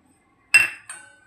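A utensil clinks twice against a dish while surmai fish is mixed with chaat masala, one bright ringing knock followed by a softer second tap, close and clear.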